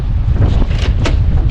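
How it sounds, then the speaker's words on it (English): Loud gusting spring wind outdoors while bass fishing buffets the microphone with a deep rumbling roar and occasional sharper rushes, close and continuous. "It's really windy out here."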